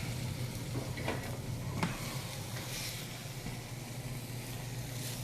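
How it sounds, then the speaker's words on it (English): Butter melting in a pan gives a soft, steady sizzle, low and constant, with a few faint clinks and stirring touches over it and no talking. "let's get our butter in there. Be a little generous with the butter. And while the butter is melting"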